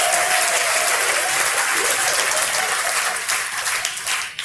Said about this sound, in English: Can I get a round of applause for Samuel's charity work?